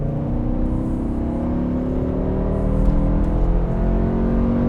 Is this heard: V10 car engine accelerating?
yes